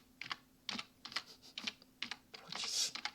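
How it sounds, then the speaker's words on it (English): Computer keyboard keys are pressed in short, irregular bursts of soft clicks, close and quiet, with no talking during the typing. "Stuff sitting on the keyboard."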